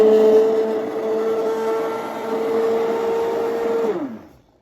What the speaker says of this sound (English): this is an emulsion blender. You might call it a stick blender.